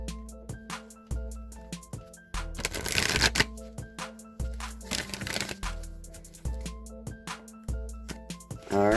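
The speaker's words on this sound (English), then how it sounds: "let me just give these a couple more shuffles here." A Wisdom of the Oracle tarot deck is shuffled repeatedly by hand, giving riffling card flutters in bursts with brief pauses and a couple of louder, denser riffles midway, close and clear with no talk.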